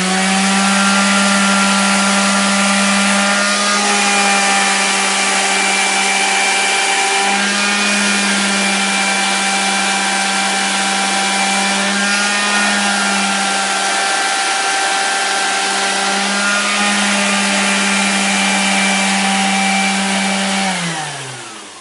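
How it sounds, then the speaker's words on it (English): An electric sander drones steadily and loudly throughout while it works a merino wool scarf for felting. The motor holds a constant hum with slight changes in pitch, then winds down at the end. "we've finished sanding our scarf"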